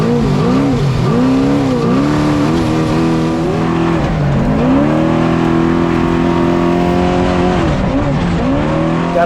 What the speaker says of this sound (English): I crank it as hard as I can, put the whole left side up on this rock